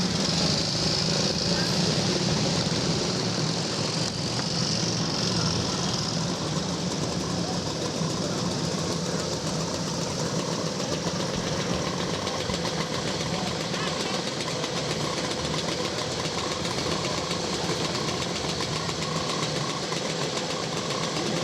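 Several vintage motorcycles idle together at the Banbury Run start, a continuous, loud, rumbling engine drone with steady vibration and no breaks; a voice is faintly mixed in.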